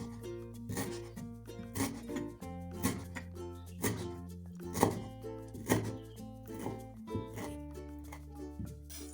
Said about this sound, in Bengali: কিছু ধনেপাতা নিয়েছি, একদম কুচি কুচি করে কেটে নেব।